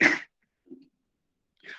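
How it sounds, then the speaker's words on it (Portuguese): One sharp, explosive cough bursts out at the start, followed by a faint breath and a softer second exhale, otherwise silent. "Desculpa, vou tossir, não vou fugir, hein?"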